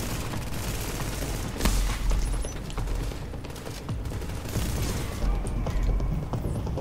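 A deployed turret in The Division fires steady bursts of gunfire, a dense crackling fusillade with booming hits layered over continuous game noise and mechanical sounds, with no voices.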